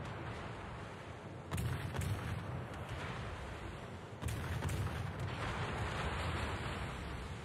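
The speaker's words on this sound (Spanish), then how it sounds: "¡Disparó!" Loud booming gunfire in a naval combat video game match, with two heavy blasts landing about two seconds apart over a continuous rumbling battle backdrop.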